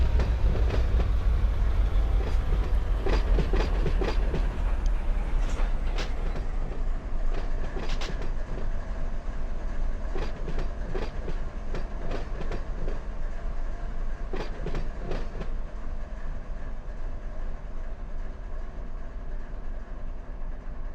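A freight train in Run 8 train simulator shoves slowly into the clear, with a steady loud rumble and repeated clickety-clack wheel beats passing over the rail joints.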